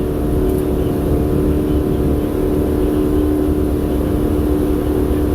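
A 2019 2750 Ultra Cab center console boat runs on its single port outboard motor at about 28 mph, making a loud, constant engine drone with rushing water and no changes in pitch.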